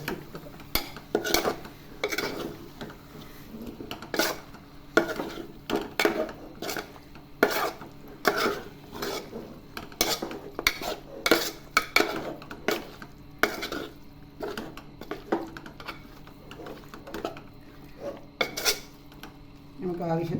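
A metal spoon scrapes and clinks against a pot while green chicken masala is stirred, giving repeated irregular scraping strokes and knocks, close and with no talking.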